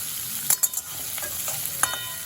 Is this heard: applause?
no